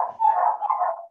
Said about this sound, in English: There's one dog barking.